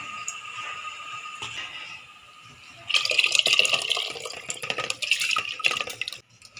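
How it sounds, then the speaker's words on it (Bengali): Rice grains poured into a pot of hot, boiling water, giving a sudden burst of splashing and bubbling that runs for a few seconds after a quieter simmer, with no one talking. "এবারে আমি চালগুলো দেবো।"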